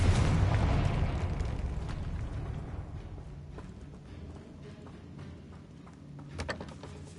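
The Confringo spell from the game Hogwarts Legacy goes off inside a tomb as a booming blast that rumbles and decays into low echoing debris. A sharp crackle follows near the end, and there is no talk.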